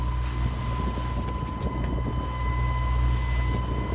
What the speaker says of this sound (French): Là, il y a un bateau qui nous suit là,